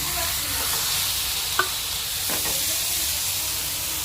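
A cabbage omelette fries in a pan with a loud, continuous sizzle and hiss, broken by one or two brief scraping clinks as it is turned.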